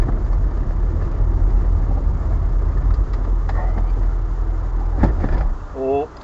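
A 1971 Austin 1300GT engine running just after a quick start, a steady low idle rumble close by with a faint voice and a brief shift in tone near the end.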